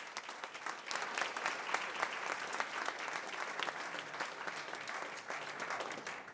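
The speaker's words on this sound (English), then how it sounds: "please another warm round of applause for your 2007 Lansing Volunteer Recognition Committee" A crowd at a 2007 volunteer recognition night in Lansing gives a sustained round of applause for the organizing committee. The even clapping sounds somewhat distant and fairly quiet throughout.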